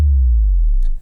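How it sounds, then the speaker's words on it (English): A deep sub bass drop sweeps downward in pitch, booming loudly and then fading out quickly with a faint crackle near the end. "It is important to note that your subdrops should be tuned to the key of the"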